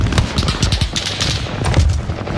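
Rapid bursts of automatic gunfire in Call of Duty Warzone on the Fortune's Keep map, dense overlapping shots and loud sharp cracks running steadily through the whole stretch with no talk.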